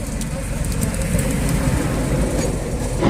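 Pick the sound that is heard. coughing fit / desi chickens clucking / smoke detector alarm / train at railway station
train at railway station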